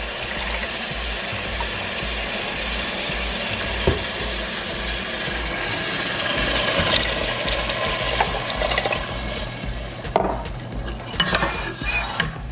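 Cups of water go into a pot of Mexican rice and beans with a continuous close splashing rush, plus a few louder clunks and bumps near the end, and no voices.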